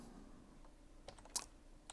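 Keys clacking on a computer keyboard while writing notes in code for an LED flasher circuit, a few soft scattered taps with one sharper click, quiet and close.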